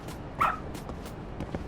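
A dog in the video game Lost Judgment gives a short high whimpering yelp amid faint scuffling game sounds, with a few soft clicks and rustles around it.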